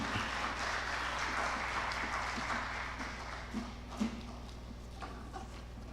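An audience at a technical summit session claps after a talk, a soft, somewhat distant wash of applause over a steady low hum, tapering off with a few scattered claps.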